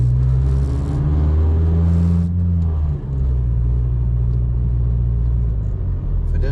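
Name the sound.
Mazda 3 engine torquing up in gear, worn engine mount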